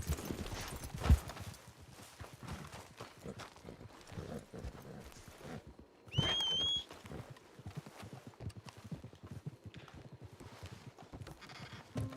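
Clip-clop of horse hooves pulling a wagon in the Red Dead Online game, a steady close trotting rhythm under rattling wheels and ambient noise, with a brief whinny partway through.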